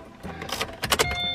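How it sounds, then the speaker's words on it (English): A car's engine is heard starting and warming up on a rainy morning, with brief mechanical whirs and clicks close by and a low steady hum settling in at the end. "Okay, I gotta warm up my car real quick."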